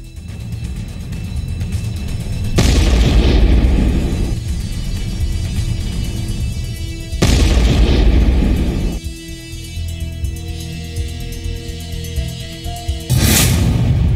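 Bomb explosions from a US strike on ISIS in Afghanistan, three massive booms with long rumbling tails, loud and heavy, one after another.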